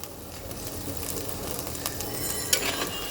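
Boiled potatoes sizzle in hot oil close by, a steady soft frying hiss with a faint crackle near the end.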